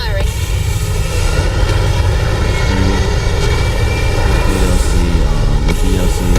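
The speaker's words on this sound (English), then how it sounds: "All thrusters firing." Spaceship thrusters fire in the game Starfield with a loud, dense engine roar that holds steady throughout, with some tonal stepping near the end and a voice talking over it.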